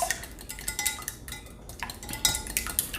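Eggs seasoned with salt and pepper being mixed in a bowl, a steady clatter of utensil against the bowl with brief pauses, close and fairly busy, with no voices.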